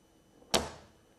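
Two strong magnets slam together in a single sharp, loud crack, hard enough to chip pieces off, followed by a brief fading ring, with no talking.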